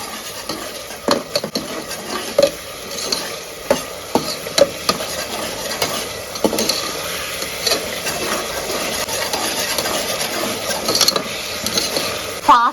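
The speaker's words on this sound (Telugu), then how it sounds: "పెరుగు వేసుకున్నప్పుడు కొంచెం ఫాస్ట్గా కలబెట్టుకోండి" Yogurt stirred quickly into tomato pulao in a pan, giving steady scraping and clinking of a spoon against the metal with a faint sizzle underneath, running continuously and fairly close.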